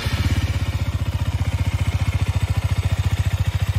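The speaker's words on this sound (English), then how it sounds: "When you touch the ignition button, it automatically continues to ignite until the engine starts." A KTM Duke 125, a small-engine beginner motorcycle, runs close by with a fast, even thumping beat that holds steady from start to finish, with no voices.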